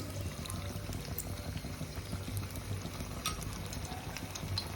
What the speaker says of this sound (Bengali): এবার কড়াইতে তেল দিয়ে নিয়েছি তেল গরম হয়ে গেলে একে একে মাছ ছেড়ে দিচ্ছি